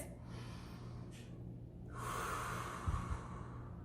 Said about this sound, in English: If we would stop and take a big breath like this